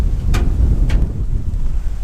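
Strong wind buffets the microphone with a steady low roar, and a couple of brief gusty swishes cut through.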